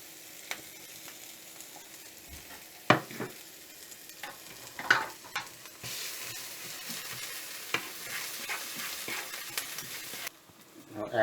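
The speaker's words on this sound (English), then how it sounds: "add the crushed garlic and the onion, and fry it for about" Crushed garlic and onion fry in butter in a pan, a soft continuous sizzle punctuated by scattered stirring clicks, swelling to a louder hiss midway before dropping off.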